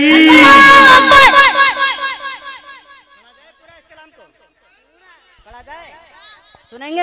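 At a naat gathering, a crowd chants loudly in unison in answer to the Naara-e-Takbeer call. The voices fade out, and after a near-silent gap a few sung vocal phrases return.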